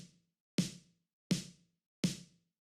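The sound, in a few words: bounced snare drum sample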